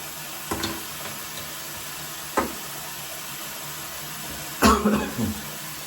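A man coughs three times, short dry throaty bursts spaced a second or two apart, close to the mic in a quiet room.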